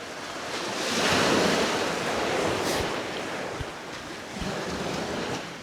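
Sea waves breaking on a beach at Lowestoft or Southwold, a broad continuous rush of surf swelling and easing, loud and close, with wind buffeting the microphone and no voices.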